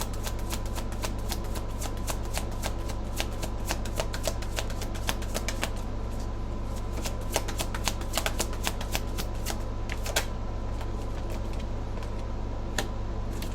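A deck of cards being shuffled nearby, a rapid dense run of crisp riffling snaps that continues without pause over a low steady background hum.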